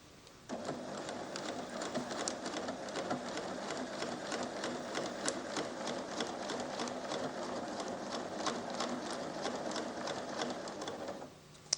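A 1987 Pfaff creative 1471 sewing machine stitches fabric with the reverse key held, a quiet, rapid, even needle chatter running steadily for about eleven seconds before stopping with a small click.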